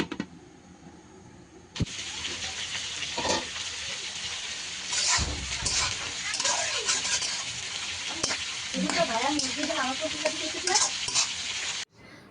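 Khota greens with green chillies, salt and turmeric hit a hot wok and burst into a loud, continuous sizzle and hiss. Stirring clatters and scrapes run through the sizzle, which stops abruptly at the end.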